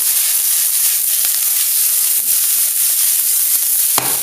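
Chilli pepper sizzling steadily in a hot frying pan, a continuous close broadband hiss with small crackles throughout and a brief sharper spatter near the end.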